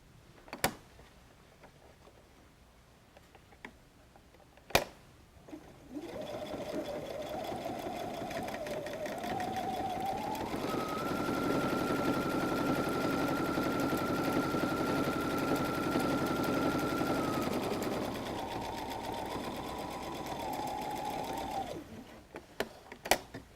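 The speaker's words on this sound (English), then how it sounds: "now we have one last fold to sew, and it's this fold right here" A sewing machine stitching the last fold of a fabric messenger bag runs in one continuous whirring burst, speeding up to a higher steady pitch before slowing and stopping, framed by quiet handling clicks at both ends.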